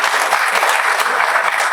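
Audience applause at an artificial intelligence symposium in India, a dense steady wash of many hands clapping that carries through the whole moment before cutting off abruptly at the end.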